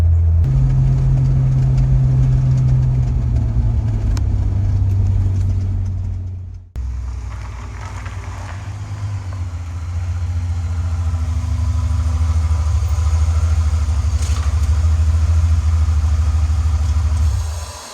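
A car with a supercharged Honda J35 engine drives along, its steady low engine drone loud and continuous, dipping briefly mid-way as the gears change before settling back into a strong cruising hum.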